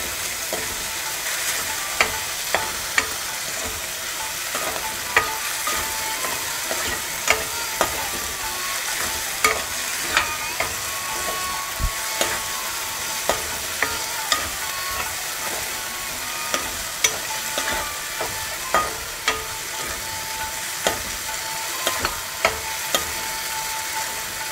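Tomato and onion with a little salt frying in a pan: a continuous bright sizzle with steady hiss, punctuated by regular sharp scrapes and clicks of a spoon stirring against the pan, with no talking.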